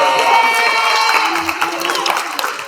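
A live audience at a season two final tribal council event breaks into applause and cheering, a dense, steady roar of claps and shouts with voices mixed in, fading slightly toward the end.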